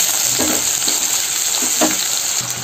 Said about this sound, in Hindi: हम इसको अच्छे से फ्राई कर लेंगे।